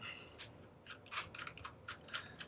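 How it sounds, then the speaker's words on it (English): Faint, close clicks and small metallic ticks from a 1/8 inch Allen key backing screws out of a Hi Point carbine, short irregular bursts with no talk. "switch it up to the 1/8 inch Allen. Take these out."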